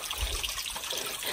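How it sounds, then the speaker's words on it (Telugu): Water flows and trickles steadily into a temple pond below a Rama temple in Adilabad, making a soft, continuous hiss that stays fairly quiet and even throughout. "అండ్ వాటర్ చూడండి ఒకసారి ఎట్లా ఫ్లో అవుతున్నాయి చూడండి ఒకసారి."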